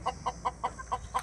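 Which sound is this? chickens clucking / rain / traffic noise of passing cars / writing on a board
chickens clucking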